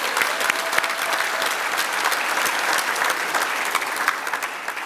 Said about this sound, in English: I'd like for you to give her a round of applause